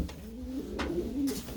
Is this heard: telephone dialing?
no